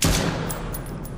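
Rapid gunfire from a gun in a horror video game, a dense burst of loud overlapping shots filling the whole moment with no talk.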